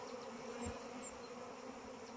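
Honey bees buzz around a hive in early spring, a faint, steady insect drone with a few individual bees passing close by.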